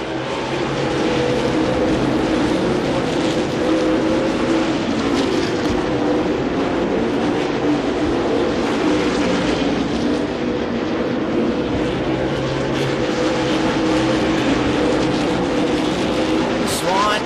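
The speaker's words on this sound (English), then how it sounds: "Miller clears the lap car of Eckert." Super late model stock cars roar steadily around the Slinger Speedway oval in a continuous loud engine drone, with a race announcer talking over it.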